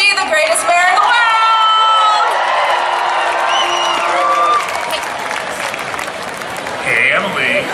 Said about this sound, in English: Let's give a big cheer for Mayor Nancy, the greatest mayor in the world!